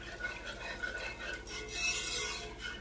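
A spoon stirs a Cajun seafood stuffing mixture in a pot, soft wet scraping and swishing strokes, quiet and close, with a faint metallic clink near the end.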